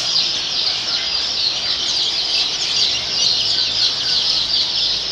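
Joper chickens on a poultry farm fill the space with a dense, continuous chorus of clucking and chirping, loud and close, with no pauses.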